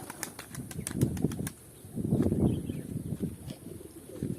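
Pigeons flap their wings in flight outdoors during the moulting season, giving bursts of wing clatter with some soft coos against a breezy background.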